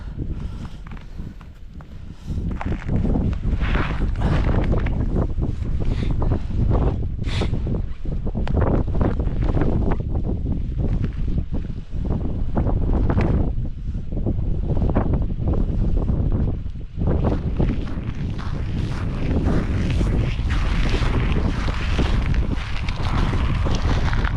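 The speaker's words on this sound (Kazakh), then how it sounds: "Жел тұрып кетті." Strong wind blows across frozen Lake Shalkar during winter pike ice fishing, a loud, continuous gusting roar that buffets the microphone for over twenty seconds with no talking.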